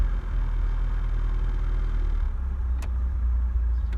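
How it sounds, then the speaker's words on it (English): An Opel Manta engine idles just after a cold start with the choke being pushed in, a steady close rumbling tick-over with a brief sharp click near the end. "it's running sweet. I'll just push the choke in a little bit more."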